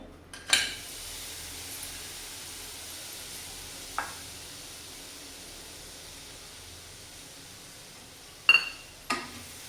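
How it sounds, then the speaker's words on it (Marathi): Jaggery being stirred in a kadhai to make one-thread syrup, heard as a few scattered metallic spoon clinks and scrapes against the pan over a faint, quiet hiss, with long still gaps between them. "गुळाचा आपण पाक करायचा आहे एक तारी पाक करायचा आहे पहिला गुळ चांगला पण मिसळून घेऊया"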